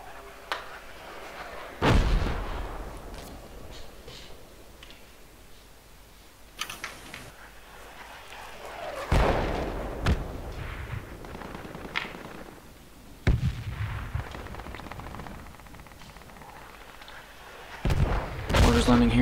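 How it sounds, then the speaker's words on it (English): Mortar shells burst in the Project Reality game, landing in heavy booms near 2, 9.5, 13.5 and 18 seconds over a low rumbling battlefield background, a few of them loud and close. "Mortars landing here now."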